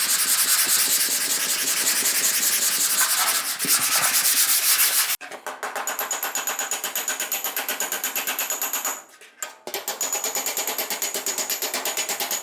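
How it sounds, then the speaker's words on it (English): Steady, rhythmic scraping of a sanding block rubbed back and forth over dented car body metal, close and continuous, with a brief pause midway. "let's pass a sanding block over it"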